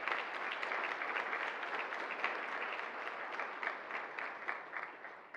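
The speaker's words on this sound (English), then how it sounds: "So everyone, please, a big round of applause for these companies." An audience applauds sponsoring companies at a panel event on political engagement and voting, a sustained, even patter of many hands clapping throughout, with no speech on top.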